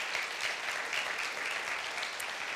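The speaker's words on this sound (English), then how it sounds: "Hopefully they're standing, and we can applaud our elected officials together" An audience claps steadily for elected officials at a school district's state-of-the-schools event, a dense and even wash of applause that holds at a constant level throughout with no voices.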